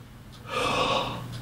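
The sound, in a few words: deep breath in, clarinet breathing demonstration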